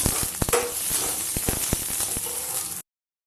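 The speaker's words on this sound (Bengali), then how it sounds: "দেখো আমি ফোড়ন দিয়ে দিয়েছি কালো জিরে আর সামান্য একটু রাঁধুনি" Black cumin and radhuni spices sizzle in hot oil for a dal tempering, a dense continuous crackle with sharp pops scattered throughout, close and steady, with no talk over it.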